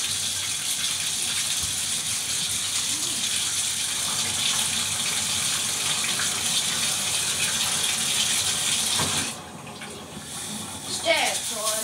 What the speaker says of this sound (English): the shower is on.